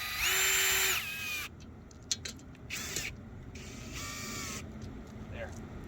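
Power drill driving old screws back into existing holes in model railroad track, heard as a loud whirring burst near the start followed by shorter intermittent drill runs and clicks, fairly close.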